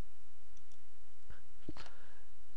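A couple of sharp computer mouse clicks over a faint steady background hiss, close and brief, no talking.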